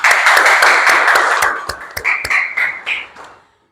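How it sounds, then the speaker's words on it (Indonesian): Children in a classroom clap their hands in a loud, dense burst of applause that thins into a few scattered, separate claps before fading out. "Kasih tepuk tangan."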